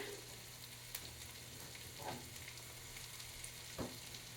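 Eggs fry in a pan with a constant soft sizzle, and a few light scrapes and taps sound as they are stirred.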